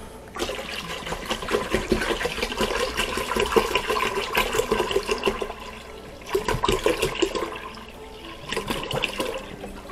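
Juice for mead glugs and splashes as it is poured into a fermenting container, in loud gushing bursts with a short pause in the middle before pouring resumes.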